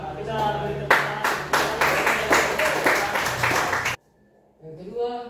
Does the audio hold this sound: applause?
yes